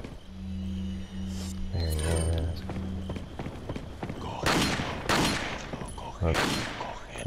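Rifle gunfire in Resident Evil 4, several loud, sharp shots spaced a second or so apart after a stretch of low engine-like hum and mechanical clatter, mixed with game sound effects.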